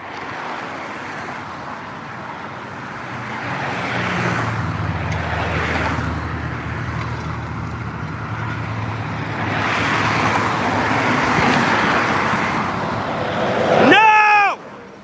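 Freeway traffic on Interstate 45, a constant rushing roar with cars swelling past, a low engine hum early on, ending in a sharp high squeal near the close.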